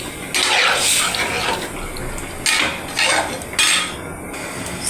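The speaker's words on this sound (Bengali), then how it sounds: "এটা কুমকুমা গরম পানি দিলাম।" Hot water is poured into a fish curry in a pan, giving loud splashing bursts in several separate pours with short pauses between them.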